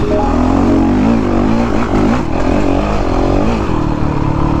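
Honda CRF 450 dirt bike engine revving loud and close while being ridden, the pitch rising and falling in quick throttle bursts with rattling and scraping underneath, no talk.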